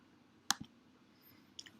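A computer mouse gives a sharp double click, close and quiet, followed by a fainter click a moment later in an otherwise quiet room.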